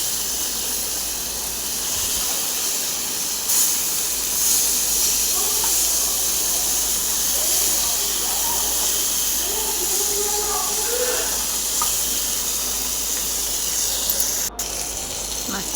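Fish fries in hot oil in a pan with a steady, close hiss and sizzle that runs throughout, and faint voices can be heard in the background.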